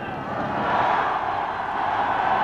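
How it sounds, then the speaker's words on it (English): A large crowd roars and cheers steadily at the finish of the Paris-Roubaix cycling race as a French rider comes in to win, a dense sustained wash of voices that swells slightly and stays loud throughout. "Listen to the crowd."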